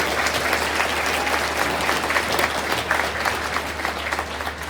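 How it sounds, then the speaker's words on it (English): Audience applause at a school band concert honoring faculty and students, a steady wash of clapping filling the hall at even loudness throughout. "So if we could give those, the faculty members and our students a round of applause."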